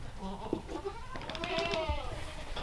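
A Kiko goat bleats at moderate distance, with a wavering call in the middle, while quiet farm background and faint human sounds sit underneath.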